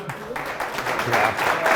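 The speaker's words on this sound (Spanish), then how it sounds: "Aplaudir, lo merece." Audience applause at a discussion gathering about Mediterranean food, a short burst of clapping that swells slightly and stays close, with a voice talking underneath.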